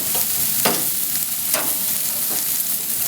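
Grilled chicken wings being tossed in BBQ sauce in a hot pan make a steady, close sizzle, with several scraping stirs as they are moved around. No voices are heard.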